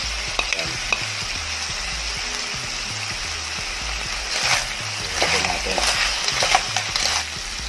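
Chili peppers, panigang and labuyo chilies hit a hot frying pan while cooking ginataang susong pilipit, giving a steady close sizzle with stirring scrapes that swell louder in the second half.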